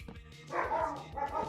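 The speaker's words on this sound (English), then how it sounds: "See what I mean? They're barking." Dogs bark in short bursts behind a gaming session, a few sharp barks and yips at moderate distance, fairly loud and repeated over the brief stretch, with no talk over them.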